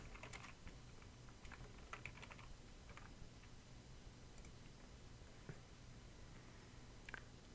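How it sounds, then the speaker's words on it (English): Faint keystrokes on a computer keyboard tap away in irregular clusters while code is written, soft clicks over a low room hum with no speech. "and start typing."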